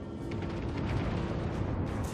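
Heavy ship gun fire in the World of Warships naval video game, a loud sustained boom and rumble with dense low-end roar filling the short stretch, no voices over it.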